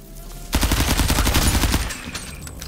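Shotgun blast in the FPS game Out of Action, a sudden loud boom followed by a dense rattling burst of rapid reports that fades into a lingering tail after about a second and a half.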